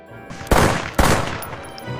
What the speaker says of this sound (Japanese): ワーニャの教授に向けて拳銃を発砲するが外れてしまう。